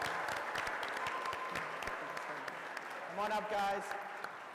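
A school crowd at the Mr. BSHS 2021 pageant claps for the moms, dense sustained applause throughout, with a voice over a microphone speaking briefly near the end.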